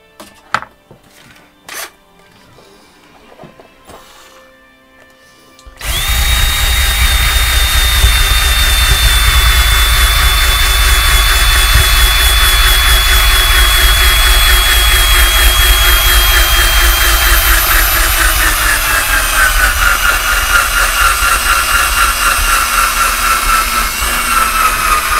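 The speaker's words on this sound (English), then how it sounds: "let me check the drill again, see if we got enough charge on it to go a little further now" A cordless power drill starts up after a few seconds of near-quiet. It then runs as a loud, steady whine with a hissy whir for nearly twenty seconds, with no voices over it.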